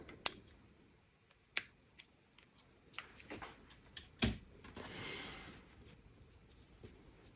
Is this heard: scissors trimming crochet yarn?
yes